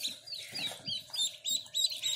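Newly hatched ducklings from a home incubation of duck eggs give repeated high, thin peeps in short bursts, fairly close, with soft scuffling underneath.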